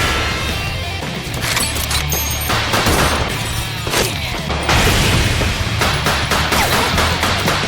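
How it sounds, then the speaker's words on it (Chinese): Rapid gunfire from a sniper battle in an anime game, loud and dense, with sharp crashing shots running nearly without pause through the whole stretch. "双方一边移动一边射击"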